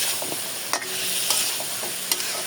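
Potato and eggplant stir-fried with spices in a hot pan, a steady close sizzle broken by several scraping strokes of a spatula, with no talking.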